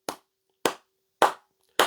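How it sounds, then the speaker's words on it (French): One person claps four slow, separate times, each a sharp, close hand clap with silence between, evenly spaced and with no talk. "Ici, j'applaudis"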